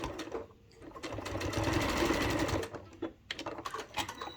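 A sewing machine stitches a reusable fabric bag in a close, steady whir, with short bursts at first, then a longer continuous run, then a few brief stop-start pulses.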